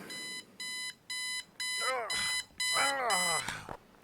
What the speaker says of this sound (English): when his alarm started going off, he was not happy